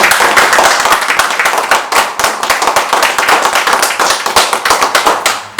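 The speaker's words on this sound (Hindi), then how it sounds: "मैं चाहता हूं कि आप सभी के लिए एक जोरदार तालियां होनी चाहिए।" Seminar audience clapping at a motivational business event, loud, close and vigorous, with sharp individual hand claps in a fast, uneven rhythm throughout.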